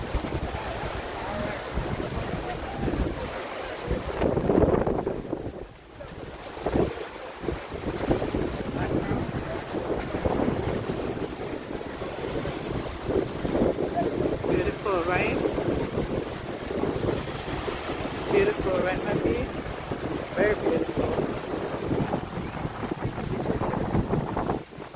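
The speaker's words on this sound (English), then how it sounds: "I'm actually, I'm at the beach, Jamaica." Wind and surf at a beach in Jamaica, with strong gusts buffeting the microphone over a constant rush of water, and a voice talking faintly at times.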